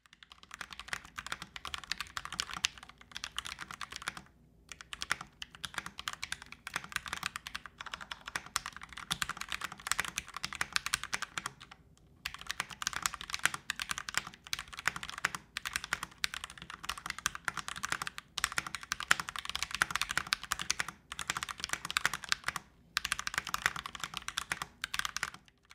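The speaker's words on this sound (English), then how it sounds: "so here's a quick typing test" Steady, fast typing on a Kemove K68 mechanical keyboard with brown switches: close, even keystroke clatter with short pauses, running alone for about twenty-five seconds.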